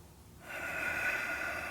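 A single deep breath drawn in during a yoga crow pose (bakasana), starting after a brief quiet moment and continuing as a close, steady airy rush that lasts over a second.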